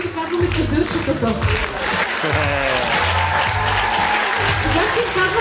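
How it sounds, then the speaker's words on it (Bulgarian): Sustained audience applause for advanced young dancers at a children's Christmas dance concert, dense steady clapping throughout with a voice speaking over it. "Аплодисменти за нашите напреднали малки танцори"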